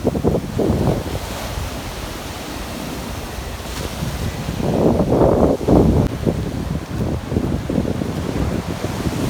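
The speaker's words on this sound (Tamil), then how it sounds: "பருத்துறை கும்பல கிழக்கில் இருக்கிற இந்த மூக்கு கடற்கரை தான் காட்டுற வீடியோ" Sea waves at Mookku beach near Point Pedro, a steady roar of surf breaking in repeated surges with strong wind buffeting the microphone and no voices.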